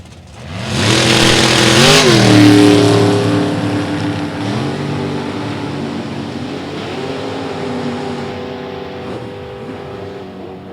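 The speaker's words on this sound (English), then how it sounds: "as you watch and hear, listen, Nick Folk on and off the gas way down at the top end" A drag racing car engine at a drag strip, revving hard and then easing on and off the throttle in a few long swelling and falling pulls, loud and somewhat distant.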